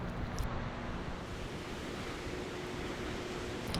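Steady wash of surf breaking on Dongsan Beach near Yangyang, Korea, a broad continuous roar of ocean waves blended with wind noise on the microphone, with no voices.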